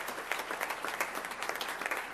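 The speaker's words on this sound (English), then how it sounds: "Let's give ourselves a round of applause for that." A room of attendees at a school district board meeting applauds together, a dense, moderately loud wash of clapping that holds steady for a couple of seconds.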